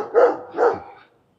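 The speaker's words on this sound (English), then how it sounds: "That is a deep bark. That is a dog you would not want to mess with." A deep dog bark, two loud close woofs in quick succession, heard alone on an outdoor walk in Innisfail, Australia.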